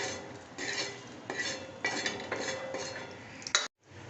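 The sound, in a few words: scooping roasted spice masala out of the pan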